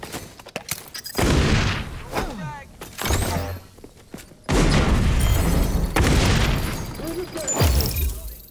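Frag grenade going off in XDefiant amid gunfire, several heavy booms and rattling shots with a big blast midway, while a voice talks over the fighting.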